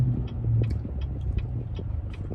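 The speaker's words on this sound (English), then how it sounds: "These tires are loud." Nitto Mud Grappler tires on a vehicle coming to a stop give a low rumbling road drone with faint intermittent ticks and knocks, close and fairly loud, without talking.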